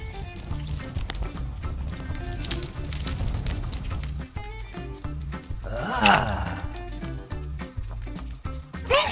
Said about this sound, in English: Let me grill more sausages